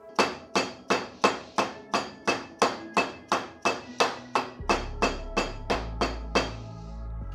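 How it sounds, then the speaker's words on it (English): A mallet tapping a clutch basket into place on a Honda TRX250R ATV, about sixteen sharp, evenly spaced metallic knocks in a steady rhythm, close and distinct, with a low hum joining partway through. "I'm just going to tap that with a mallet and we'll see if that pops in place"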